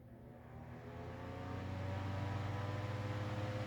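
A gray Holmes HANF-96 personal fan runs at its faster speed, a steady low motor hum with tonal whine that rises slightly over the first second and then holds even, close and fairly quiet.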